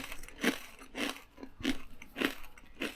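Five crisp, evenly spaced crunches as a fortune cookie is bitten and chewed close up, each bite a sharp crackling snap with short pauses between and no talking.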